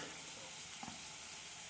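Chopped onions and beans stirred in a frying pan, giving a soft, even sizzle with a faint scrape of the spoon over a brief moment.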